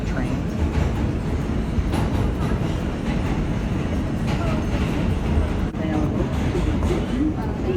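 A crowded eastbound F local subway train in New York rides with a continuous loud rumbling roar, irregular rattles and clacks, and a dense low-pitched din throughout.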